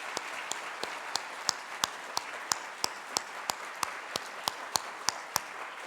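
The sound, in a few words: audience applause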